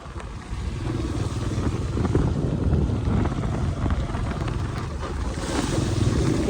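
Floodwater surges through a banana plantation with a steady, loud rushing wash and wind buffeting the microphone, continuous and close throughout, with no speech.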